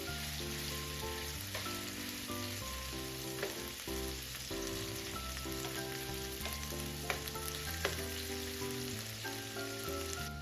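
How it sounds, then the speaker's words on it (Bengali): Prawns fry in a pan with a steady close sizzle and crackle, lightly fried, with a few soft stirring clinks and no talk. "চিংড়ি মাছ খুব একটা বেশি ভাজবো না"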